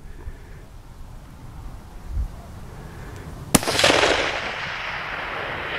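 A single sharp rifle crack from a long-range shot at a spike deer 600 yards away, loud and near, followed by a rolling echo that fades slowly over quiet outdoor ambience.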